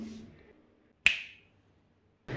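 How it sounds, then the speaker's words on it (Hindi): A single crisp finger snap rings out sharply in a quiet home room where dirty dishes wait to be washed, set between brief stretches of soft background noise. "जिस तरह से बर्तनों को चुटकी बजाकर साफ़ किया"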